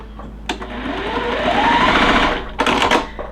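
A domestic sewing machine runs in one steady whirring stretch of about two seconds while stitching yellow and background fabric pieces of a quilt block, bracketed by sharp clicks at start and stop, close and clear.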